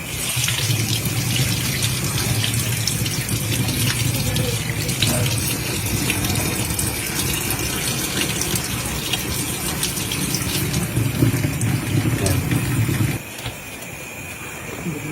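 Salted fish being rinsed under a running kitchen tap, a steady loud gush of water splashing into a sink that carries on almost the whole time, then drops in level near the end.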